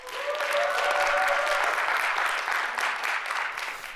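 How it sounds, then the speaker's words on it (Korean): An audience at a stage talk on running restaurants breaks into loud, sustained applause, a thick crowd of clapping that swells then eases slightly, with a faint tonal line beneath at first. "박수 한번 주십시오."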